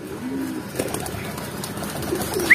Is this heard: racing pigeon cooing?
yes